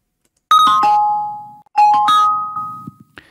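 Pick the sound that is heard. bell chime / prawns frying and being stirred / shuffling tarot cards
bell chime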